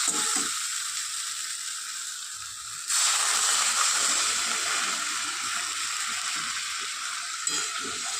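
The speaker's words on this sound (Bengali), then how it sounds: "এবার দিয়ে দেবো জল" Water goes into a pan of frying potato curry for aloo dum, the steady sizzle jumping to a louder, broader hiss that then settles into constant bubbling and frying, close and without talk.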